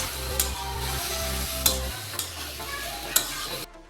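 Pointed gourd being fried in oil and turned in the pan, a close continuous sizzle with a few sharp scraping stirs, the frying dropping away near the end.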